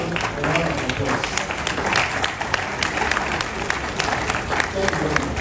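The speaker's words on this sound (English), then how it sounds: "So please let's give them a round of applause." Crowd applauding at an NDC anniversary commemoration rally, sustained dense clapping with a broad crowd hum underneath, steady throughout without a clear break.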